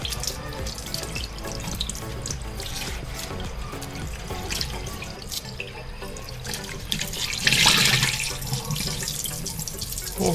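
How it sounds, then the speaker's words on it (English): Water from a kitchen tap streams steadily over a sponge being rinsed, a continuous close splashing rush with a brief louder gush near the end and no talking. "So I'm just gonna run it through water"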